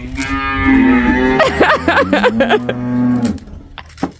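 Farm cows mooing close by at feeding time, several long, loud, overlapping moos one after another with a voice briefly between them.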